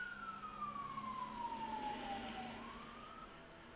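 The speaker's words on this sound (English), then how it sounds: "You know it's not good when you hear sirens on a holiday." A siren wails outside on a holiday, its tone sweeping steadily downward then rising again over a constant low rumble, sustained and moderately distant with no talk.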